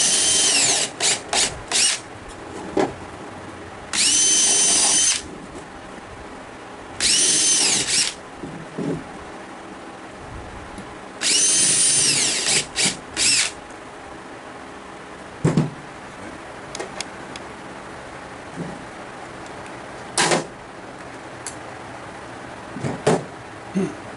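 A power drill drives screws into the wooden seat of a glider bench in several loud, multi-second whirring bursts, separated by short clicks, taps and quiet pauses.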